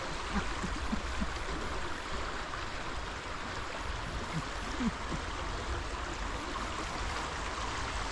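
Water current rushing steadily along, a broad continuous wash with faint gurgles and a few brief knocks, heard up close with no voices.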